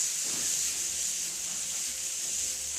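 Onions, celery and mushrooms sautéing in a pan for green chile Philly soup, giving a steady, soft, close sizzle and hiss that runs unbroken throughout with no talk.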